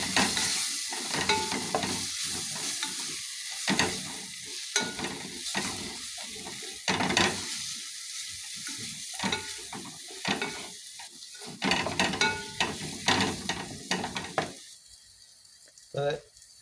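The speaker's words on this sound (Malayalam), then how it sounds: "ഇനി നമുക്ക് നന്നായിട്ട് ഇളക്കി കൊടുക്കാം" Masala for a homestyle chicken curry stirred and sizzling in oil in a pan, a spoon scraping in uneven bursts over a steady fry, close and moderately loud, with no talk.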